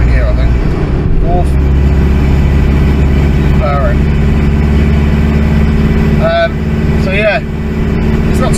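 A Mitsubishi Shogun Sport's engine pulls up a steep hill with a loud, steady low hum heard from inside the cabin, while someone talks over it.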